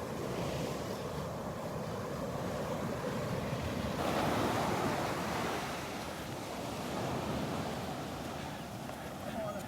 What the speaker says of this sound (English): Nice little waves rolling in here. Not too bad. Breaking on the sandbar out there.